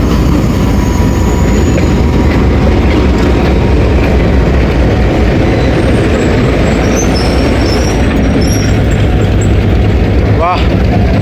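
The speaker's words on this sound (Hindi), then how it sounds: "ये रेलकार की कोच है" A railcar coach train passes at Attock City Junction with a loud, continuous rumble and rolling wheel clatter, and a brief squeal near the end; voices talk faintly beneath it.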